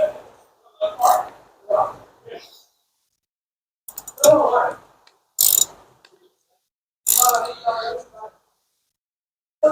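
A ratchet clicks in short, close bursts as 14 millimeter caliper bolts are tightened on a Hyundai Sonata during a rear brake replacement. Several quick ratcheting runs are separated by brief pauses.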